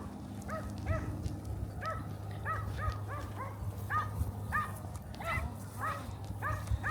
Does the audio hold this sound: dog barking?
yes